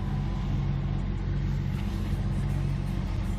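A BMW E39 engine idling steadily while warming up, a continuous low rumble heard close by with no other sounds.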